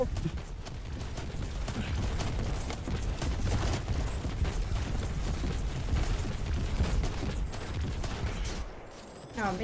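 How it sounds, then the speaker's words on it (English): Rapid, dense gunfire from a video game sniper engagement, a continuous barrage of sharp cracks and booms rattling close by for several seconds, briefly easing near the end. "Oh, I'm being sniped."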